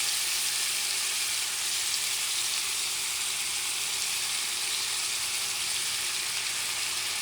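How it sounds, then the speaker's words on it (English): A salmon steak frying in a pan with butter and thyme gives off a steady, loud, hissing sizzle that stays even throughout, with no voices. "And now you're going to add some butter, about a tablespoon,"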